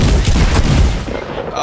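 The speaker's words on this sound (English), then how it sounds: "He's shooting through the floor." Gunshots fired through a floor in the video game Forgeknight: heavy, booming reports packed densely together, loud and muffled, fading slightly toward the end.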